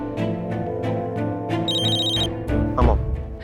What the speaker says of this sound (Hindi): टेंशन हो रही है, कर लूं रणबीर को फोन